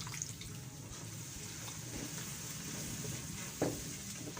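Water poured into a pot of frying spice masala of coriander, turmeric, red chilli and salt for daal maash, giving a steady close sizzle and bubbling hiss with stirring scrapes and a brief louder burst near the end.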